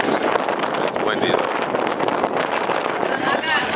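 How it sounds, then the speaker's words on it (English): Heavy wind buffets the microphone in a constant rumbling roar at a lowrider car event at the AV Fairgrounds, with bursts of talk partly buried underneath. "You hear all that wind in the background."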